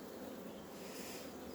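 Honey bees on a hive frame give a faint, steady buzzing hum with no pauses and no voices.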